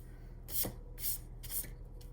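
Pencil drawing a pink blazer on paper: three separate bursts of scratchy strokes about half a second apart, close and fairly quiet, no talk.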